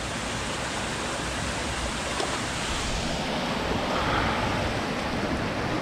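Steady broadband rush of water flowing along a creek bed, continuous and fairly close, with no voices over it.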